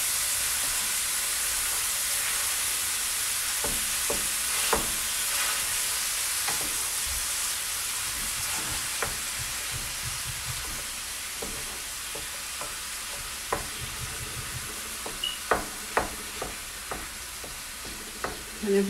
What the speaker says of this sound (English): you can fry your meat up in the same skillet like me